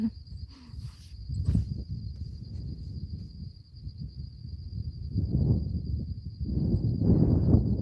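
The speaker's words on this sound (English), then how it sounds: "Can you hear the crickets?" A faint, steady high-pitched cricket trill runs continuously over low rumbling background noise, distant and unbroken throughout.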